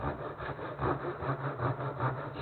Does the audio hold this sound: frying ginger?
no